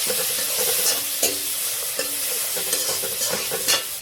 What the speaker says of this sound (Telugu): ఇవన్నీ వేసుకొని ఇలా కలిపేసుకోవాలి